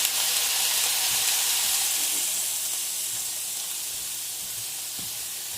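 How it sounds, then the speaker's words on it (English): A seasoned chuck roast sears in a hot pan, giving a steady, dense sizzle and frying hiss throughout with no talking, close and even in loudness. "We want to sear it just on the top and the bottom."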